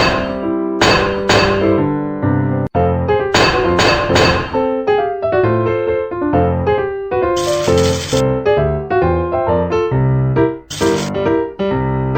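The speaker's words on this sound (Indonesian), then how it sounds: "Pukul komponen baja dengan palu untuk menyejajarkannya." Cartoon hammer strikes on steel components in a Babybus children's construction game, a series of bright metallic clanks and chimes in quick rhythmic bursts over playful game music, loud and close.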